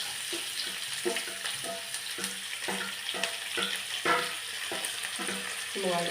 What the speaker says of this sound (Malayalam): കടുക് പൊട്ടിയെ ഇനി നമുക്ക് തേങ്ങായും സവോളയും ഇഞ്ചി വെളുത്തുള്ളി എല്ലാം കൂടെ ഇങ്ങോട്ട് നിന്നിട്ട് വഴറ്റാം